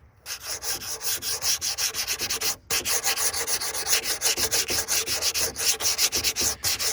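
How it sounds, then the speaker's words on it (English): Light hand sanding of small wooden stars on a DIY American flag, a steady scratchy rubbing in quick repeated strokes, close and continuous with one brief pause. "We're just gonna do one last light sand of the stars."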